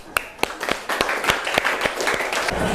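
A classroom group claps in a patterned ice-breaker routine, sharp hand claps landing in quick sets with short gaps, fairly close and lively.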